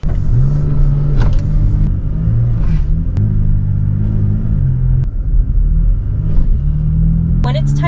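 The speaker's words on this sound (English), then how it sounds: "It revs really, really high, almost like it's going into neutral" A 2020 Toyota Tacoma TRD Pro with a faulty transmission revs high during a shift, its engine rising and flaring under steady cabin rumble while someone talks over it throughout.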